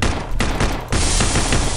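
Rapid Glock pistol gunfire in the zombie shooter video game Day of the Zombie, a loud, dense burst of shots filling the whole stretch with little pause and no talking.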